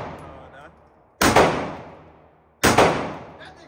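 Two loud, sharp gunshots crack at a gun range about a second and a half apart, each with a long echoing decay, and voices talk faintly in between.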